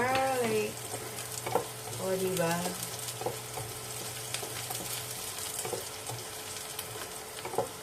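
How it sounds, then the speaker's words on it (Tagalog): Garlic sizzles in hot oil while sautéing for pancit bicol, a steady crackling fry close by, with a few stirring clinks and brief speech-like sounds early on. "Tapos lagay ko yung garlic."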